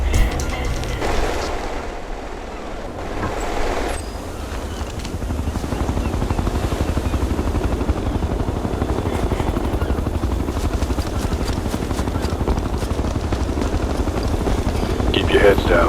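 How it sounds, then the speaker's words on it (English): A military helicopter in the video game Ghost Recon Future Soldier thrums steadily overhead, a loud continuous rotor drone that swells after a short lull, with voices speaking over it. "If that chopper spots us, it'll get messy real fast."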